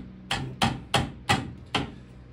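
A palm pounds on a wooden box lid, giving five sharp, close knocks at a slightly uneven pace over a quiet background.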